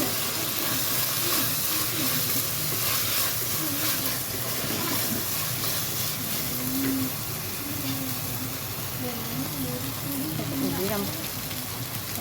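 Ginger garlic paste frying in oil in a clay pot while making chilli chicken fry, giving a steady, continuous close-up sizzle and hiss throughout with faint voice traces underneath.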